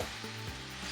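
Ground beef for meat pie cooks in its own fat in a pan, giving a brief, faint, steady sizzle.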